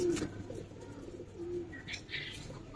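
Giribaz pigeons of an old breed coo softly at close range in brief low phrases over faint background hiss, with a few light rustles and no talk.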